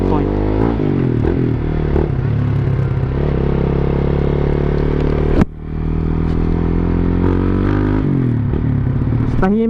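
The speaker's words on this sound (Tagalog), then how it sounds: "Mas tahimik ang makina ngayon." A big bike's motorcycle engine runs steadily just after an oil change, its deep even hum continuing throughout with a brief dip midway, while a person talks over it.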